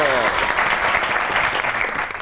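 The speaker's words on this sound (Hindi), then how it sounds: "आपकी बहुत सी तालियों में" Studio audience on a Pakistani comedy talk show applauds the arrival of a guest, a dense, steady wash of clapping at full volume with a harmonic voice faintly sliding through it at the start.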